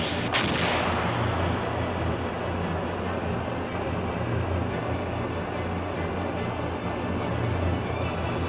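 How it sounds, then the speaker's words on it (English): Magic cannons boom in the video game Skies of Arcadia Legends, a loud blast opening a dense stretch of rumbling artillery fire with scattered sharp cracks, continuous and close throughout. "They have magic cannons."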